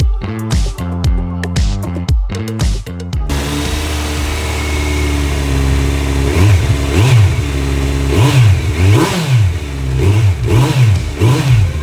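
A 2019 Kawasaki Z900 Performance motorcycle fitted with an Akrapovic exhaust starts with sharp throttle blips, then settles into a steady idle. Repeated loud revs rise and fall close by over the rumble, with no talking.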